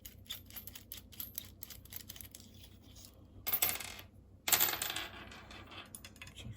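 A soldering iron tip is unscrewed and swapped out, making small metallic ticks and clinks followed by two louder, rougher scraping bursts near the end, quiet and close with no speech.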